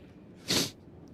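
A single sharp sneeze bursts out at close range, brief and breathy, in an otherwise quiet room.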